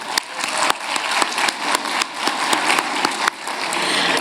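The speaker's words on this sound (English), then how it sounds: "please join me in giving a round of applause for AT&T" An audience claps at a forum session, a dense, continuous wash of applause with sharp individual claps standing out, with no talking.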